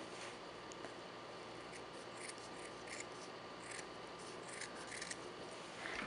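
Scissors snip through felt while shaping a rose leaf, a run of quiet crisp cuts over a steady hiss, close and soft, no talking.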